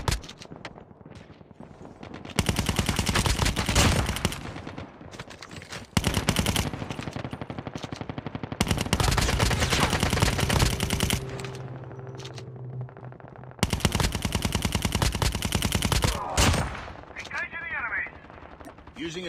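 Automatic weapon fire in the mobile shooter Call of Duty Mobile, several long loud sustained bursts of rapid shots separated by short quieter gaps with footsteps and scraping.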